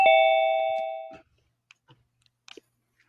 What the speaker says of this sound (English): I'm gonna turn that ding dong off. I don't like that ding dong.